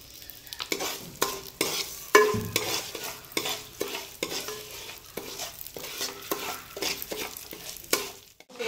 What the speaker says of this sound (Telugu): మనం ఇప్పుడు పెసరపప్పు కూడా వేపుకుందాము. దీంట్లో మనం కొంచెం ఆయిల్ వేసుకుందాము.